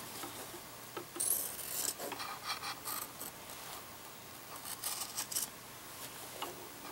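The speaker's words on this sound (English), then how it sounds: "now to trim away all the excess" Scissors trimming excess fabric around a sewn quilt wing piece, giving soft quiet snips and rubbing cuts close by, with a few brighter crisp clips near the start.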